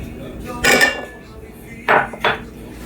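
Melted butter being mixed into ground corn in a bowl for green corn tamales, heard as three short scraping, clinking bursts of a utensil against the bowl, close and fairly loud, with quiet pauses between them.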